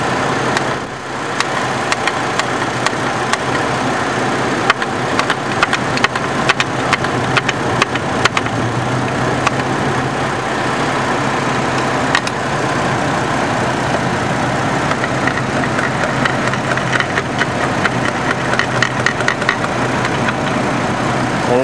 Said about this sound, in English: You got that belt spinning, that fan moving.